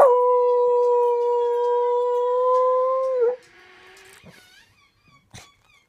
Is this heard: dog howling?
yes